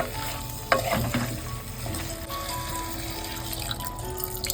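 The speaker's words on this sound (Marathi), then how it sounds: "पाणी घालून घेतो याच्यामध्ये" Water hits a hot pan of frying prawns with a sudden burst, then a steady bubbling sizzle continues close by without any talking.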